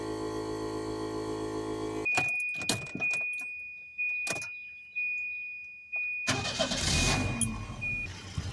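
A Volvo 240 engine hums steadily, then goes quiet amid clicks and jangling; the engine starts up again and runs loudly and roughly near the end.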